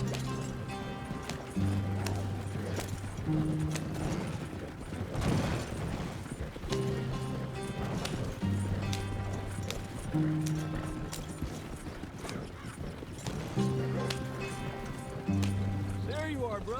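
Horse hooves clip-clop in a steady, close rhythm along a track, while repeated tonal music and voices run over the hoofbeats.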